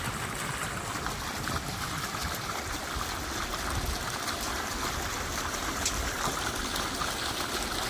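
Water flowing into a pit in Mathak village, a steady, dense rushing and trickling wash that holds at an even level throughout, with no voices heard.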